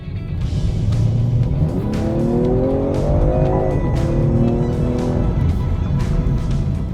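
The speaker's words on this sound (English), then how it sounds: "The note that you get from the engine is just so fantastic. It's growly, it's satisfying, it's got this deep rumble" A BMW M340i's engine gives a deep, growly note close by, climbing through a rising rev sweep and then easing back, with a steady rumble throughout.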